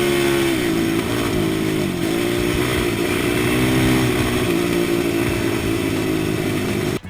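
A 450cc quad ATV engine being ridden in the mountains, revving continuously with rising and falling pitch as the throttle changes, loud and close throughout, no talking.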